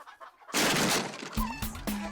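A rooster being chased and caught in a Hindi TV drama scene: a sudden loud burst of flapping and scuffling, then several sharp squawks and clucks close by.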